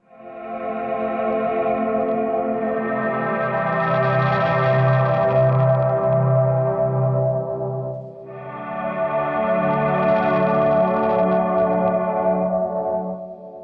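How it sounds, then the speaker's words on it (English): Shimmering, heavily effected electric guitar with chorus-like swirl and echo, sustained chords swelling loudly, a brief dip near the middle, then resuming; no voices. "you're going to hear this strange ethereal guitar once the chorus starts"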